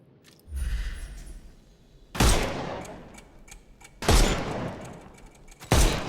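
Three loud gunshots from the Sherlock Holmes Chapter One video game, each a sharp close blast with a fading tail, spaced about two seconds apart after a lower rumble at the start.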